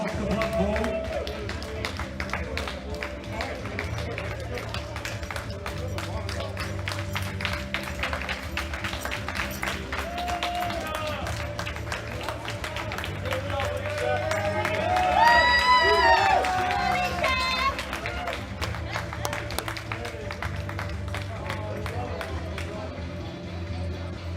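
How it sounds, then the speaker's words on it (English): Steady audience applause fills a powerlifting arena at the women's junior world classic championships as lifters leave the platform, dense continuous clapping with some cheering swelling midway, with a voice talking over it. "please give these ladies a round of applause as they follow Heather Layton off the platform"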